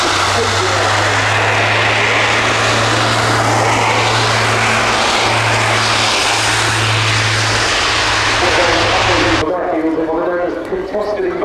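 A military aeroplane in a flying display at the RIAT air show roars overhead with a loud, continuous engine drone, heard under people talking, ending abruptly into quieter crowd noise.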